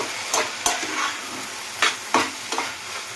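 Kolmi shak, water spinach, fries in a pan while a spatula stirs it in several sharp scraping strokes over a soft continuous sizzle, close by.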